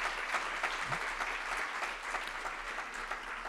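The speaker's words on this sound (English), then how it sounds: "Another round of applause for Dr." An audience at an indoor talk gives a steady round of applause for the guest speaker, even continuous clapping from a modest crowd held at a constant level throughout.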